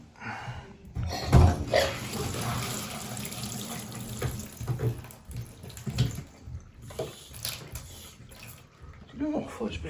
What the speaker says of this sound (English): You're going to go turn the water back on for us.